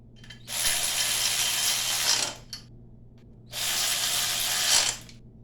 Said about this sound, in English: I'm gonna go ahead and tighten her down.